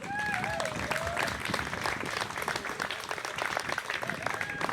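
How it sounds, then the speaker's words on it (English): Audience applause for the judges at an outdoor award ceremony for a concours d'elegance car show, steady and fairly loud clapping throughout with faint whistling or vocal tones over the top. "Let's give those judges a big round of applause"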